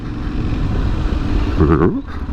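A 2022 Aprilia Tuareg motorcycle is ridden outdoors, with a loud continuous engine drone and wind rush. A brief rising whine near the end suggests a rev.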